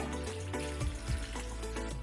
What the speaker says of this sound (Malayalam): അതിലേക്ക് കുറച്ച് വെള്ളം